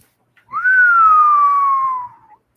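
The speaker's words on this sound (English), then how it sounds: "the whistle was good" A referee's whistle at a professional racquetball match sounds one long, loud, steady blast lasting about a second and a half, with a slight upward bend at the start and a gentle fade at the end.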